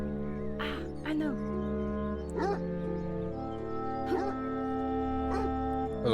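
A dog in the video game Beyond Eyes gives several short barks and yips spaced a second or so apart, set against a sustained tonal musical background.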